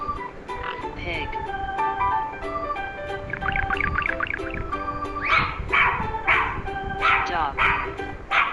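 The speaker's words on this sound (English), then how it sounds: "Dog." A dog barks in an animal sounds lesson, giving a run of sharp, close barks in the second half over a continuous musical background, with softer yips earlier.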